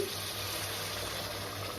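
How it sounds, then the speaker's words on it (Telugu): A brief, steady rush of hot water pouring into a country chicken curry pot, close and constant with a low bubbling undertone throughout. "దీంట్లోనైతే నేను మంచిగా వేడి వేడి నీళ్ళు వేస్తున్నానండి"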